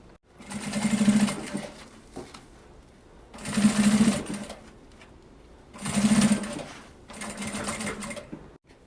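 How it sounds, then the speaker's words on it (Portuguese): Sewing machine stitching a straight seam on fabric for a zippered cosmetic pouch, running in four distinct bursts of steady whirring with short pauses between, close and clear, no talking. "E essa parte que tá reta, sem as curvas, a gente vai passar uma costurinha."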